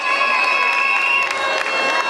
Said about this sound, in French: On applaudit très fort pour l'OCOI, s'il vous plaît.